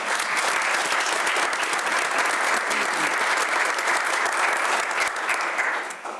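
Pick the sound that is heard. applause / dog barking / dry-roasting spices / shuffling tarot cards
applause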